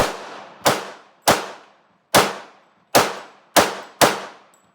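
Six loud, sharp pistol shots from an Auto Ordnance 1911 A1 at an outdoor range, fired at a steady, slightly uneven pace, each ringing out with a short decaying echo.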